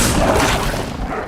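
A fire spell, Incendio, cast in Hogwarts Legacy: a loud, dense burst of crackling whoosh lasting just over a second, filling the clip with no voice.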